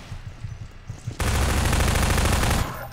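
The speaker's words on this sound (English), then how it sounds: "It's a pulse rifle" A pulse rifle firing in Half-Life 2, a sustained loud burst of rapid automatic fire lasting about a second and a half, following a quieter stretch of faint ticking background noise.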